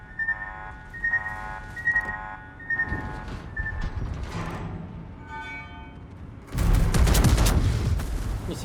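A World of Warships battleship, the Collingwood, takes a salvo of 8-inch shells; after several seconds of quieter tonal game sounds, a loud, dense burst of booming impacts and crackling explosions hits near and stays loud to the end.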